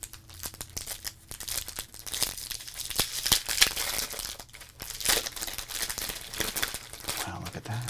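Sports card pack wrapper being torn and peeled open, a steady run of close, crisp crinkling and ripping foil over about eight seconds, with brief talk in the background.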